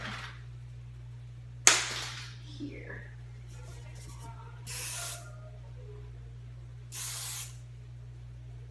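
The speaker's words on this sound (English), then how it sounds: "I'm just gonna spray that just a little bit" Two short bursts of hairspray, each about half a second, with a steady low hum underneath and a brief spoken word earlier.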